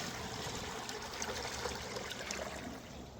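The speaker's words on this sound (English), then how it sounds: "We'll get some fresh water in the bowl though," Fresh water pours into a pig's water bowl in a barn, a steady continuous splash and trickle lasting the whole stretch, close and fairly loud with no talking.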